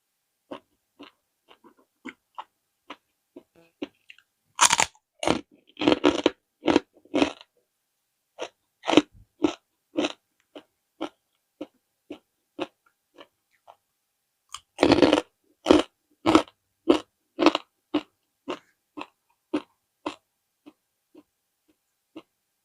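Crispy pork rinds eaten with papaya salad give loud, close crunches in uneven bursts of bites, separated by quiet pauses.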